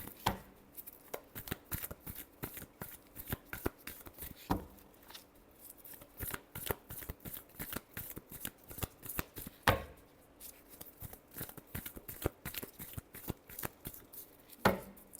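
Tarot cards being shuffled by hand in repeated quick riffles and taps, a close, crisp series of bursts spread over about fifteen seconds, fairly quiet overall.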